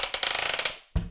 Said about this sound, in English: You got a ratcheted thigh swivel.